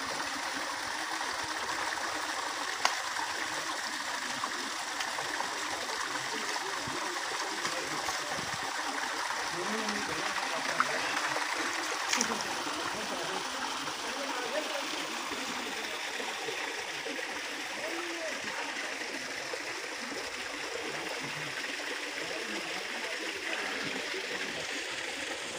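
Mountain spring water flows steadily near its source at a historical spot in Kotli Sattian, a continuous close rushing and gurgling stream sound that fills the whole stretch with no talk.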